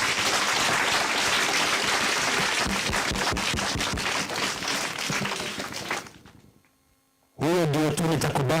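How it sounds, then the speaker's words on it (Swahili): Applause from an audience at a primary school event, a dense sustained crackle of many hands clapping that swells loud, then fades and stops, before a voice briefly speaks into the quiet over a faint hum. "Natumpigia makofi mengi hapa."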